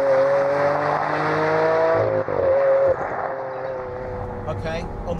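A Lamborghini Aventador's 6.5-litre V12 engine holds a loud, sustained tone with steady harmonics that shift as the revs change, then eases into a lower rumble near the end.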